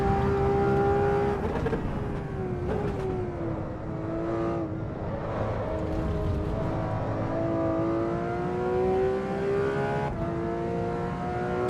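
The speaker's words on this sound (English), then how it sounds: "this car sounds pretty good" Car engine humming and revving in long sustained drones, pitch dipping and climbing gently across several gear changes, steady and close with no voices.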